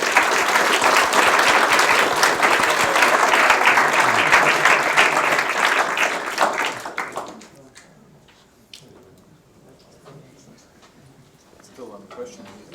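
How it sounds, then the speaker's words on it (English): A large room of listeners applauds a tech talk presenter with dense, loud clapping for about seven seconds, then it fades out, leaving quiet room noise and scattered faint sounds. "let's give a huge round of applause for Martin."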